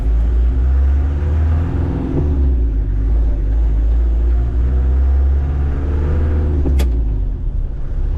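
A Land Rover Defender 110 with no power steering pulls away, its engine running as a low, steady rumble close by. The drone holds throughout with a slight rise and a brief click near the end, and no talk is heard.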